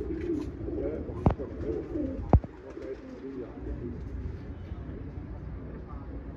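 A sick pigeon cooing softly on a rooftop, low murmuring coos running steadily under a voice, with two sharp clicks partway through.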